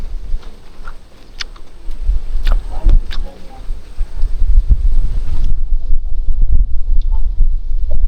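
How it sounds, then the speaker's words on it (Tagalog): Strong wind buffets the microphone in a heavy, steady low rumble, with faint voices and small rustles underneath. "Malakas ang hangin oh."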